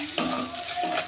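Ground spices (chili, turmeric, coriander, cumin) stirred and sautéed in a hot pan, a soft steady sizzle with brief scraping stir strokes, close and quiet.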